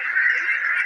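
A Nagini duck for sale at a market gives one short, nasal quack, close and fairly loud, with no other sound.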